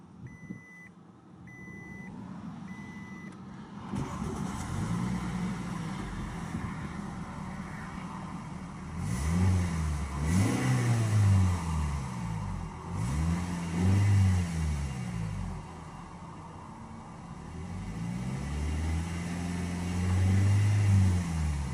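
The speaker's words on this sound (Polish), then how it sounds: "Samochód uruchamiamy również bez użycia kluczyka. Robimy to przyciskiem start." A few beeps, then a 2013 Toyota Corolla engine starts by push button and idles, rising and falling in a handful of revs, close by and steady.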